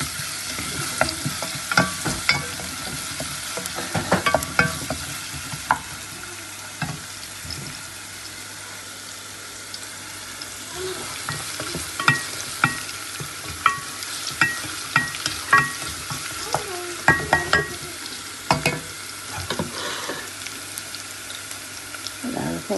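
Garlic fries in a pan while a utensil stirs and scrapes it in irregular bursts over a low sizzle. Background kitchen noise sits faintly underneath.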